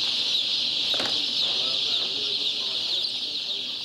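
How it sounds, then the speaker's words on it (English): Tens of thousands of newly hatched chicks at a poultry hatchery in Gaza make a dense, continuous high-pitched peeping chorus, steady and loud throughout, with a few faint lower sounds beneath. "The sound of tens of thousands of newly born chickens"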